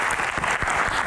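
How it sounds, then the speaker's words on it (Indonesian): Evening event audience of university students in Jakarta clapping, a brief, loud and dense burst of many hands with no speech over it. "tepuk tangan untuk adik-adik mahasiswa di Jakarta yang datang malam ini"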